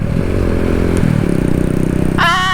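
A Honda Grom motorcycle is ridden up into a wheelie, its small engine revving loudly and close with clattering mechanical noise, then a rising whine near the end.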